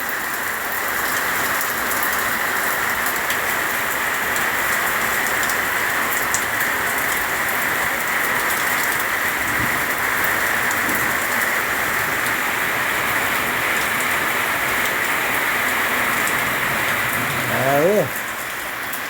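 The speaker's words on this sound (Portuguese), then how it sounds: "pra vocês aqui é a chuva de Minas Gerais, aí ó" Heavy rain pours steadily on a rural property in Minas Gerais, a dense, continuous hiss at close range lasting throughout, with a brief louder rustle near the end.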